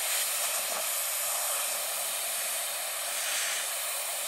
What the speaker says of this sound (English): up on top, I'm going to release whatever steam's left in there